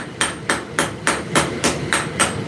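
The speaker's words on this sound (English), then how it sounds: "I could switch to one of my heavier hammers if I wanted to" A blacksmith's hammer strikes a hot steel preform in a steady, evenly spaced rhythm, eight sharp ringing blows close by with no voices.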